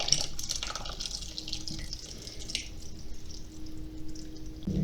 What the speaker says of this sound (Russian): Через 5 минут воду аккуратненько сливаем.